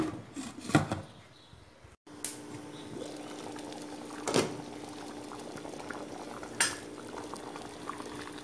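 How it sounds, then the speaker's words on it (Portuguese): Water with bananas simmers in a covered pot, a steady low bubbling hiss that runs throughout, broken by a few sharp clinks of a lid or utensil. "Cobriu as bananas com água, nós vamos tampar e deixar cozinhar."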